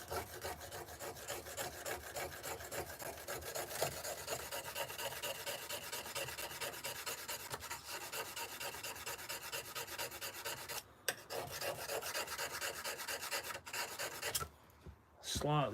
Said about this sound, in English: I'm just going to sharpen up a different chisel.